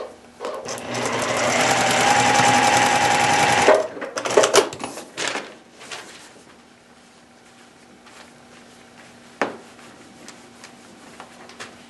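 A sewing machine stitches paper-pieced fabric in one steady, close run lasting a few seconds, then stops, followed by quiet rustling and a single faint click.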